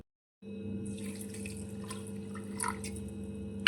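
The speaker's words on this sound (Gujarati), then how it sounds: "તે જ વાટકીના માપ પ્રમાણે એક વાટકી પાણી લઈશું" A bowlful of water poured into a pressure cooker holding soaked lentils: a steady splashing pour begins after a brief silence and runs on, close, ending with a sharp clink at the end.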